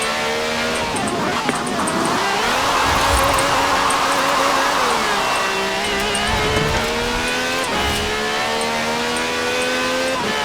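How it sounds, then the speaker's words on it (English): A V12 supercar with over 750 horsepower in Forza Horizon 4 drones loudly and continuously, its pitch rising and dropping through gear shifts and revs, with a faint voice in the background. "This has a V12 with over 750 horsepower"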